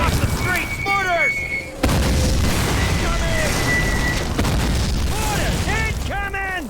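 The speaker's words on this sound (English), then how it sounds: "Off the streets! Mortars!" Mortar shells burst in the World War II shooter Call of Duty (2003), with a sudden heavy boom partway through and rumbling blasts around it, under soldiers shouting.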